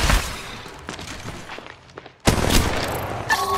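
Gunfire in the mobile battle royale shooter Apex Legends Mobile, with dense rapid shots up close, a brief lull and then another loud burst of firing.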